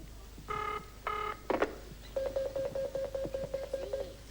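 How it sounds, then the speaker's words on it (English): A telephone line: a few dial tones, then a repeated electronic ringing tone pulsing steadily, clear and close. "It's ringing."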